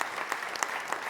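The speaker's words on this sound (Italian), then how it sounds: "E un applauso." Theatre audience applauding in a hall, about a second of diffuse clapping with a few sharper individual claps standing out, moderately faint and without voices.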